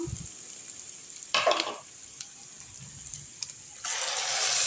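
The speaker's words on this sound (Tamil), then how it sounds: "இப்போ தக்காளி வந்து துருவின தக்காளி எடுத்து போட்டுடலாம்." Grated tomato hits a hot pan for carrot thokku with a short burst of sizzling, then a quieter stretch before a louder, steady hiss builds near the end.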